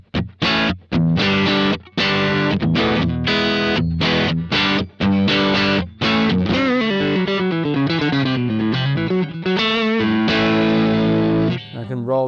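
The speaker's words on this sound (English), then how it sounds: "Here is the sound of the dirty side of the AC30." Crunchy overdriven electric guitar through a VOX amPlug modelling an AC30's dirty channel plays choppy chords, then a run of sustained notes, loud and close with a gritty amp tone.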